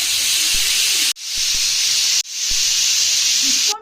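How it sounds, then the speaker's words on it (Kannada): A pressure cooker of idli sambar vents steam in a loud, bright, sustained hiss, cut off twice by sudden breaks and resuming each time, close and without talk. "ಕುಕ್ಕರ್ ಮುಚ್ಚಳನ ಕ್ಲೋಸ್ ಮಾಡಿಬಿಟ್ಟು ಇದನ್ನು ಮೂರು ವೀಸಲನ್ನು ಕೂಗಿಸ್ಕೊಳ್ಳಿ"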